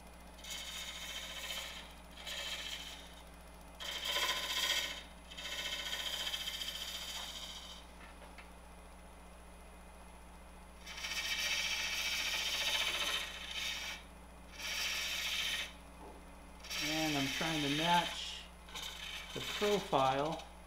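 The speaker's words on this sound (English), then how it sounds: "I'm just using a small round nose scraper." A small round nose scraper cuts a wooden bottle turned from a branch on a lathe, producing repeated rasping bursts of a few seconds each over a steady motor hum.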